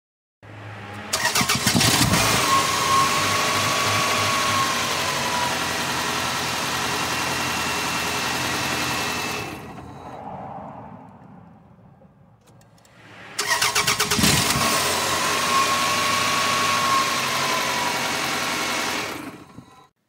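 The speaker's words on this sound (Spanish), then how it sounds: "voy a encender el vehículo y si todo está bien, debería encender normalmente, aunque sea por unos cuantos segundos" A 1993–2001 Toyota Camry 2.2 engine fitted with a new timing belt and water pump is cranked and started twice, each time firing loudly and running steadily for several seconds before cutting off, with a quiet gap between the two starts.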